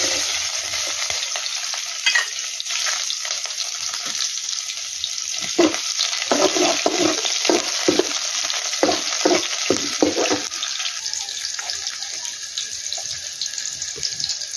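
Cumin, garlic, green chili and onion fry in hot oil in a pan, a steady dense sizzle that continues throughout, with quick stirring clatters clustered near the middle.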